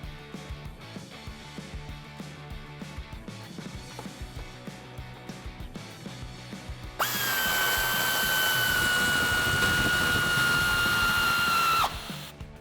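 A power tool drives the bolt that holds up a Jeep Wrangler JL bumper, whirring loudly and steadily for about five seconds before stopping abruptly, after quieter workshop handling noises.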